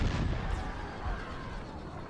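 Cannon and artillery fire during a Napoleonic-era battle in the Empire 2 strategy game, with continuous booming rumble and overlapping distant blasts through the whole stretch, no talk over it.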